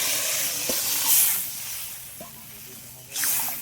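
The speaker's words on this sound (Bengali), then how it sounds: "এবার জল দিয়ে দিচ্ছি পরিমাণ মতো।" Water is poured into a pan of spiced fried potatoes for a live fish curry, setting off a loud burst of hissing sizzle that fades, then flares again briefly near the end.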